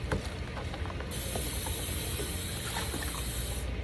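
Water runs steadily from a tap while a basin is washed and emptied, a continuous close hiss with faint clinks over the full length.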